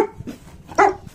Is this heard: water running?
no